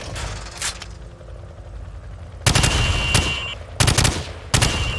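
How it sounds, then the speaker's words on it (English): Rifle fire from the hip in Call of Duty 4: Modern Warfare, heard as three loud bursts of rapid shots, each lasting about half a second to a second, over low background rumble. "Now, shoot at the targets while firing from the hip."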